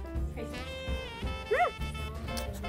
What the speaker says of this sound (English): That's my dog making those horrible sounds.